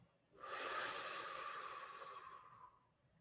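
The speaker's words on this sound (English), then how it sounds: "Then exhale." A single slow exhale, a soft breathy rush of air that lasts a few seconds and fades gently, quiet and close with no talking.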